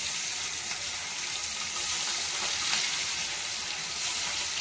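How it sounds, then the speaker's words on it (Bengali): Small fish coated in turmeric and salt going into hot oil, a steady loud hiss of frying that fills the whole stretch without pause. "আর এখন আমি তেলে দিয়ে দিচ্ছি।"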